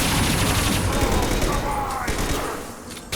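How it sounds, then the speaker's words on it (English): Sustained gunfire rattles in a Mass Effect 2 video game battle, a dense volley of shots under game voices and combat noise, thinning out toward the end. "Stop shooting, Shepard!"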